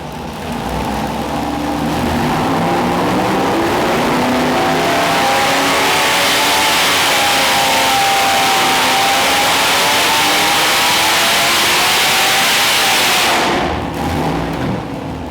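MOPAR LA small block V8 on a dynamometer, revving loudly and steadily for about thirteen seconds with rising and falling engine tone, then cutting off abruptly near the end.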